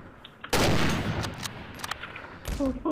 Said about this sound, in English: Smoke grenade launcher.